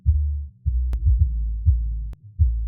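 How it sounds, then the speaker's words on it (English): Deep 808 bass hits in a beat being mastered, a handful of booming low thumps in an uneven pattern, loud and alone. "I want the low part of the 808 to be brought up."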